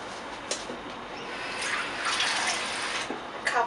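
Water pours steadily into a pot holding two cups of brown sugar, a continuous splashing trickle for about four seconds, close and moderately loud with no talk.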